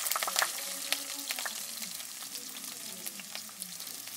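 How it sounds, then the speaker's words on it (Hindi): Onions fry in hot ghee in a kadhai, giving a bright close crackling sizzle with sharp pops that is strongest at first, then settles into a steady hiss with occasional spits. "घी गर्म हो गया, यहाँ पर ऑनियन प्याज वगैरह इसमें डाल देंगे"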